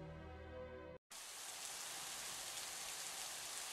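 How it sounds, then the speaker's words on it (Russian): Steady rain hiss in the video game The Isle fills the scene, with a brief tonal, musical passage cutting out abruptly before the rain takes over, continuous and fairly loud. "Проклятый дождь. Не дает мне покоя."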